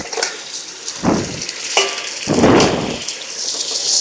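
Beef meat, bone-in and boneless pieces, dropped into a pan of frying onions for a ginger beef dish, loud sizzling bursts rising as the pieces hit the hot oil, with stirring and utensil clatter close by.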